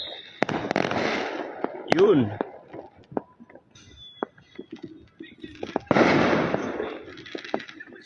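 Fireworks and firecrackers set off for Chinese New Year, heard from a rooftop: scattered pops and crackling bursts, with a whistling rocket rising and a loud dense crackle later, while someone talks quietly over them.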